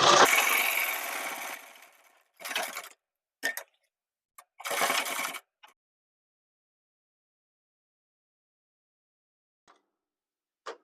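A sewing machine stitches a gents' shirt collar in several bursts: a long run of about two seconds, then shorter runs of whirring, with quiet pauses between and no talking.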